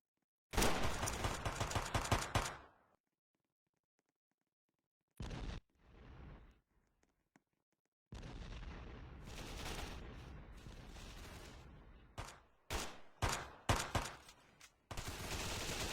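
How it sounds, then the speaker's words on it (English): Weapon explosions from the video game Roblox Life in Prison: loud bursts of blasts and gunfire-like booms in several clusters, separated by silence, with no talking. "It also uses the same explosion sound effect as the quad launcher, and the same explosion graphic too as the rockets."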